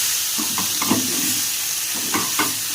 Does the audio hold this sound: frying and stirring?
yes